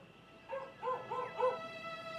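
Dobby, a 4-year-old crossbreed dog, gives four short, faint yips or barks in quick succession against a quiet background with a steady high hum.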